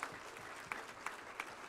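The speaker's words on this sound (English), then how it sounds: "Can we have a big round of applause?" An audience at a national scientific conference on sterile processing claps steadily, a faint, distant patter of hands with a few louder individual claps standing out.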